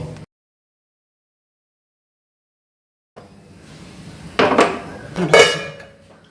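A spoon stirs Kerala-style dried shrimp, mango and drumstick curry in a pot. After a long silence, soft scraping builds, then two clear metallic clinks ring out against the pot.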